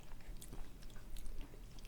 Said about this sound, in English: That crunch too from the cookie.